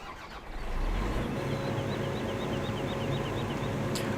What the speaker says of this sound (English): I want to point out I have started a tractor.